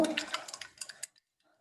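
Herbal tulsi shampoo mixed with water is stirred in a container, making a quick run of soft liquid sloshes and light clinks for about a second before falling quiet.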